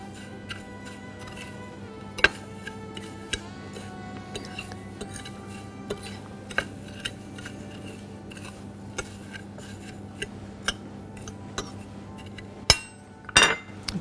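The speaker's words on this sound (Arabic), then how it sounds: "نجيب شوكة ونقلبهم مع بعض" A fork clinking against a bowl while mustard, chili and salt are stirred together, light scattered taps and scrapes at an uneven pace, with a sharper rattle of metal near the end.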